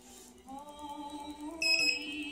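A series of high electronic beeps from a musical Christmas LED garland, fairly close and clear, with a steady tone underneath and a brighter, louder beep pattern near the end.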